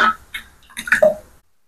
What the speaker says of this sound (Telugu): ఈ పప్పులో కొద్దిగా నీళ్ళు పోసుకుంటున్నాను